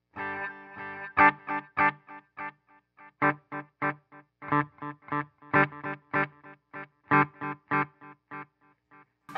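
Electric guitar run through a Line 6 Helix with a low cut EQ, played as a steady run of short, distorted, chorus-tinged chords and picked notes, close and alone with no voices.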